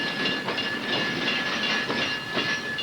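A company-owned railroad train of ore concentrate tank cars bound for a copper smelter rolls steadily past, with a continuous loud rumble, hiss and rhythmic clatter.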